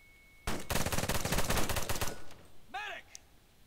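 A fast burst of automatic gunfire crackles for about a second and a half in America's Army Proving Grounds, close and loud, followed by a short rising electronic warble.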